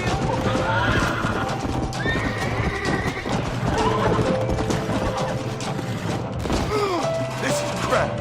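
Horses in the Western video game Red Dead Redemption whinny loudly and repeatedly over steady galloping hoofbeats, with crashes and thuds amid dense action noise.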